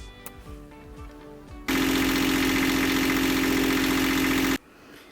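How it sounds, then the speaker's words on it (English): A sailing boat's engine, wintering in Sicily, catches and runs at a steady loud idle for about three seconds before cutting off, with quieter mechanical clatter from the start attempt just before it. "got the engine started, ran it to warm it up and get all the juices flowing"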